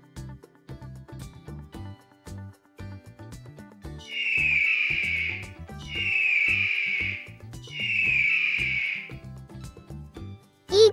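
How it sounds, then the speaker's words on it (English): An eagle gives three drawn-out, high whistling calls in a steady rhythm, each nearly two seconds long, set against soft background music. "Eagle."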